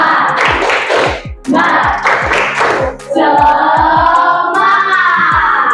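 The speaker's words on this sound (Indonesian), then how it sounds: "Tepuk semangat." A school class does a rhythmic spirit clap, tepuk semangat: sharp, loud bursts of clapping in patterned groups, joined by a group voice chanting along near the end.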